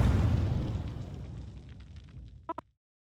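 A high-yield explosive detonates in the video game malViolence, a loud booming blast that rumbles and fades over a couple of seconds, followed by two short sharp pops.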